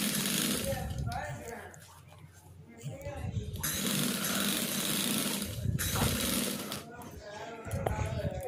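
A sewing machine stitches a triangle along the sides of a homemade chapati cover in short bursts of buzzing whir, broken by pauses while someone talks close by.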